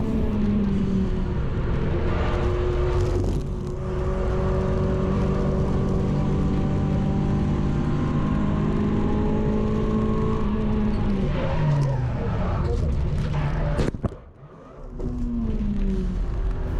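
A Renault race car in a trackday championship race at Snetterton, its engine droning steadily and shifting pitch through gear changes, then a sudden sharp impact with a brief drop before the engine noise returns, no voices.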